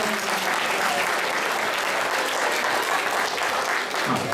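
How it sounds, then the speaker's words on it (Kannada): A large audience at a Rajyotsava stage reality show claps loudly and steadily, a dense continuous wash of applause that holds for the whole stretch and eases only slightly near the end. "ಎಲ್ಲ ರಿಯಾಲಿಟಿ ಶೋನ ಕಲಾವಿದರು ಮತ್ತು ಪ್ರೇಕ್ಷಕರಿಗೆ ಮತ್ತೊಂದು ಸಲ ಜೋರಾಗಿ ಚಪ್ಪಾಳೆ."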